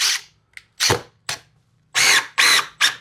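A power drill bores a new hole in a 2x4 in short bursts: a brief whine, then several spaced pulses of motor drone, the last three longer and louder, close by with no talk.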